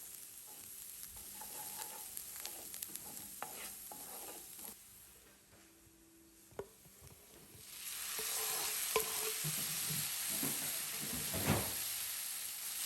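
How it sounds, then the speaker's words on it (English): Chopped onions and garlic frying in olive oil for a creamy tomato sauce, a soft hiss that swells louder partway through, with scattered clinks and scrapes of stirring, close and without voices. "then you're going to fry your chopped onions as well as your garlic in there"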